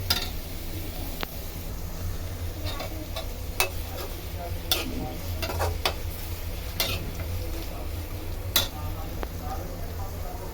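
Onions fry in a kadai with a low, steady sizzle, punctuated by scattered light clicks and taps of a utensil stirring against the pan.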